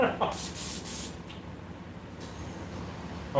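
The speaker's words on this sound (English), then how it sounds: "And I just made it all nice even tone with some white spray." White spray paint comes out of a can in a quick run of three or four short, close hissing bursts, followed by quieter room noise and a final short spritz.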